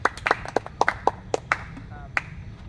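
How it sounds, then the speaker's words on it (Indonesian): A group claps hands together during a group counseling session, sharp irregular claps scattered close by over a low murmur of background noise. "kita tepuk tangan untuk kita semua"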